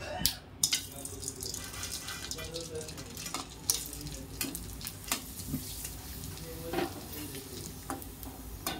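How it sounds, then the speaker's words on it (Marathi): Bobby papad is fried without oil, crackling and puffing up. Dense, close sizzling and stirring scrapes run throughout at an even level, with a few sharper knocks and faint talk in the background. "आणि आता बॉबी पापड सुद्धा मी तळून दाखवते"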